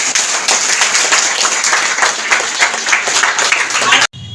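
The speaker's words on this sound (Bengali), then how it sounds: "তাদের জন্য আমরা একটা হাততালি দিই।" Audience applause at an Ayurveda product event, dense sustained clapping from a crowd that stays loud and steady for about four seconds before cutting off abruptly.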